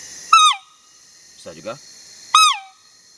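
A toy trumpet used as a deer lure sounds two loud, piercing bleats that bend downward, with a man's brief speech in between, close and clear.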